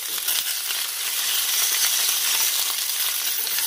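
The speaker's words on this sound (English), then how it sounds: "I'm going to put in a little bit of vegetable oil. And I'm going to drop in my tomatillos, my serrano, and my onions." Tomatillos, serrano chiles and onions sizzle in hot vegetable oil over medium-high heat, giving a steady, loud frying hiss with no break for the whole stretch.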